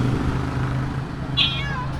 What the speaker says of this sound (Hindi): ये बिल्ली बोल रहे हैं आप कैसे हो